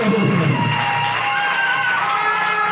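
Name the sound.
congregation applauding loudly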